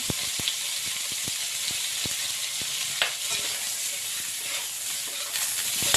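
Cauliflower frying in oil with salt and turmeric, a continuous close hiss and sizzle broken by frequent light clicks and taps from the pan, steady throughout.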